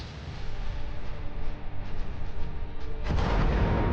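Distant HIMARS rocket strikes hitting Russian targets: a steady rumbling roar with faint crackle, then a sharp broadband blast near the end as a second impact lands, loud and sustained.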